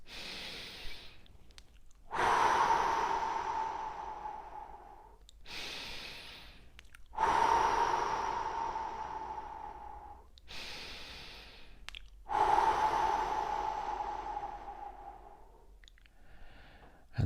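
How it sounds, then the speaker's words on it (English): Three slow, deep breaths during a guided relaxation exercise, each a long audible inhale and exhale near the microphone, evenly spaced in an otherwise quiet room. "we're going to take 3 big deep breaths"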